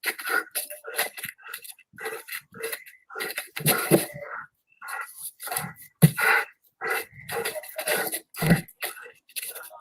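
A dog whimpers and whines in short, uneven bursts close by, with soft snuffling and throat sounds between the cries as someone speaks nearby.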